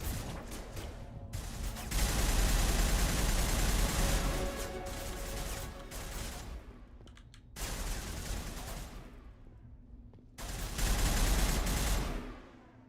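Heavy gunfire in a Mass Effect firefight, including pistol shots, comes in three loud sustained volleys with sharp pauses between them.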